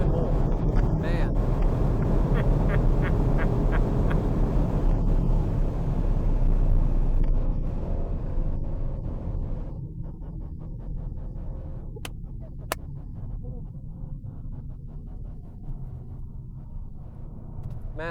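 A Brabus Rocket 900, a 900 HP carbon-bodied car, drives with a deep, sustained engine roar and heavy wind buffeting. The roar eases toward the end, and people talk throughout.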